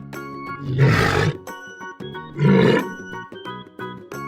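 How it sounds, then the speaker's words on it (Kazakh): Two deep, loud walrus bellows, each about a second long and separated by a short pause, over light background music. "Морж."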